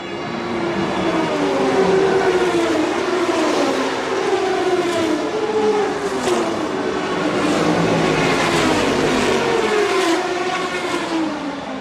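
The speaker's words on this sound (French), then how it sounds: "Monsieur François Fillon à 16h en ce samedi 12 juin pour donner le départ de la 72e édition des 24 heures du Mans" A field of race cars roars away at the start of the 2004 24 Hours of Le Mans, a loud, continuous wall of engine noise with overlapping revving pitches rising and falling as the pack accelerates.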